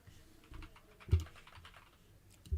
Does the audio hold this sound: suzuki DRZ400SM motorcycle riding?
no